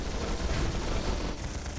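Steady rumbling cannon and gun fire from the mobile Warhammer 40K strategy game The Horus Heresy: Drop Assault, a dense continuous barrage throughout with no voices.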